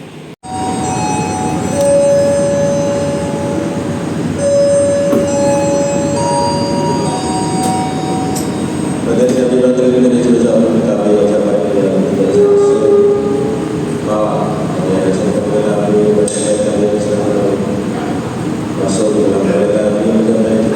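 Aboard the Majapahit passenger train, a constant loud rumble of the running carriages fills the scene, with tonal bell-like chimes early on and shifting mechanical hums as the ride continues.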